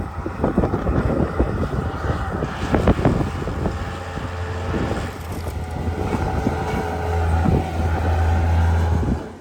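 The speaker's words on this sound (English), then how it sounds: "It's really hard to find any shelter from the wind today." Strong wind blowing outdoors beside an old barn, a steady roaring gusty rush buffeting the microphone throughout, with low rumbling swells that grow louder toward the end.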